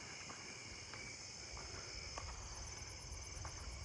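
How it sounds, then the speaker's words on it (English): A Carolina ground cricket trills faintly and steadily in a wooded area of planted trees, a thin high continuous buzz set far back over quiet outdoor ambience. "I heard a Carolina ground cricket faintly right there"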